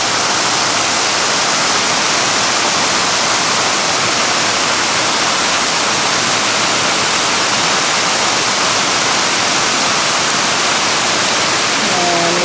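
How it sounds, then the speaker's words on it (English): A roaring waterfall fills the scene with a loud, steady broadband rush of falling water, close and unbroken throughout, with no voices over it. "Here's a nice waterfall."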